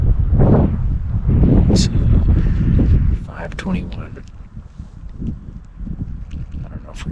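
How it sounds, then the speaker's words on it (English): Strong, cold wind buffets the microphone outdoors in loud rumbling gusts, easing after a few seconds, with a brief spoken word near the start. "Man, it's windy."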